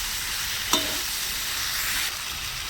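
Shrimp with flat beans, potatoes, cauliflower and tomatoes sautéing in a pan over village-style cooking: a steady, loud broadband sizzle with one sharp stirring clatter partway through, heard alone without talk.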